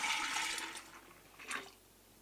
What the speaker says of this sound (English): Then I'm going to add 2 quarts of warm water.